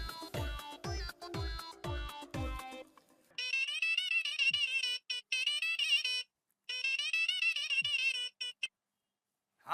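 A mobile phone ringtone plays clearly, a few melodic tones followed by repeated high electronic ringing bursts with short gaps, alone and fairly clean.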